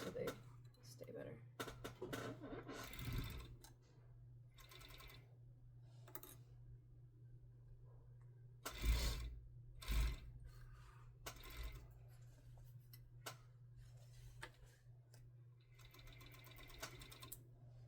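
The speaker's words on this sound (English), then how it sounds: "But first we're gonna serge it" A serger runs in short bursts over fabric for a pair of pants, its quick mechanical whir broken up by handling clatter and pauses, close by, with a voice speaking in between.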